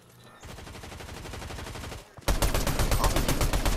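Rapid automatic gunfire in the video game Fortnite, a dense stream of shots that grows much louder and heavier partway through, close and continuous.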